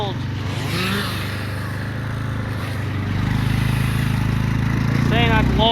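Honda Rubicon four-wheeler in four-wheel-drive low, first gear, dragging a log: a loud, steady engine drone that rises and strains toward the end, close up, with a voice talking over it.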